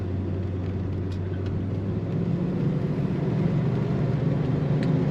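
A 1978 Chevrolet Corvette 25th Anniversary Edition drives by with a steady low engine rumble. The drone is loud and continuous, and it thickens slightly partway through as the car pulls along.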